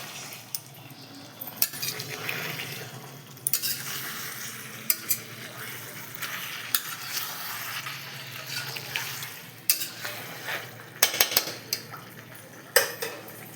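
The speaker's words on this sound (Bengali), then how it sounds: "এবার মাংসগুলো কড়াইয়ের মধ্যে দিয়ে দেবো। ভালো করে তেল ছাড়া অবধি কষিয়ে নিচ্ছি।" Meat stir-fried with browned onions in oil in a kadai, a steady sizzle under repeated scraping and clanks of a metal spatula against the pan, close and continuous.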